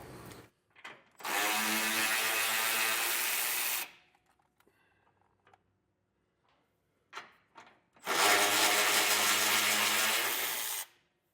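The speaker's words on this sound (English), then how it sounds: "We need to remove our jounce bumper. You're going to have a nut here and a nut on the other side." Power tool with a 15mm socket spinning off the jounce bumper nuts on a 2024 Ford, heard as two loud, close, steady bursts of about two to three seconds each, separated by quiet handling noises.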